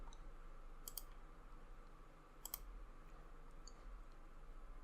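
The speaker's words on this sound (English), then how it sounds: "I'm just going to right click somewhere in my folder" Two sharp, faint mouse clicks sound about 1.5 seconds apart over a low steady background hum, a right-click on a computer mouse.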